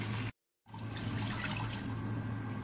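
Water is poured into a pan of frying chicken biryani masala, a steady close splashing rush that briefly cuts out, then continues.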